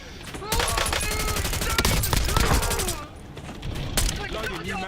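Sustained rapid automatic gunfire in a shooter video game, loud and dense shots for several seconds with a brief lull and another burst, and a voice talking through it.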